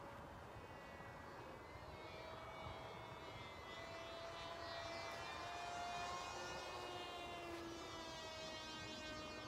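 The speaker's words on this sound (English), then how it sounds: "Okay, I can hear the plane." An FPV model plane, a Dart XL, flies overhead with a faint, steady motor whine. Its pitch shifts slightly under a constant wash of wind and ambient noise.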